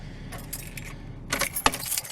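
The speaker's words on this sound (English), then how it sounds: "Take the keys out." Car keys jangle as they are pulled from the ignition of a 2006 Ford Fairmont Ghia, a short metallic rattle that grows louder and busier toward the end, close by with no talking.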